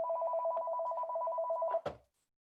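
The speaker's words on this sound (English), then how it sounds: "Yeah, someone's ringing." A telephone rings with a steady electronic double-tone trill for nearly two seconds, loud and close, ending abruptly with a clunk as it is answered or cut off.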